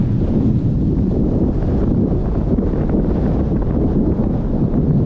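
Strong, steady headwind roars across the microphone on a trail ride toward Calamba, a thick continuous rumble with no pauses.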